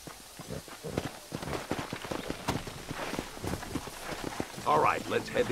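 Rhythmic clip-clop of horse hooves moving at a steady pace in the video game Red Dead Redemption, with speech present throughout.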